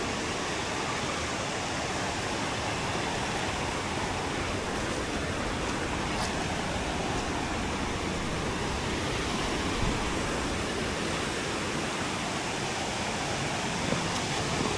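A mountain stream rushes steadily in the hills on a mad honey hunting trip, a dense, unbroken wash of flowing water that stays loud and close throughout with no voices.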